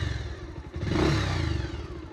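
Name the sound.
Bajaj Pulsar motorcycle engine running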